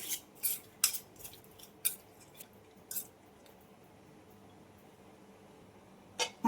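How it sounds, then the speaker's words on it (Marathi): A spoon mixing prawn marinade with lemon in a bowl, several sharp metallic clinks and scrapes in the first few seconds, then near quiet before one last clink. "हे चमच्याने मिक्स करून घेते।"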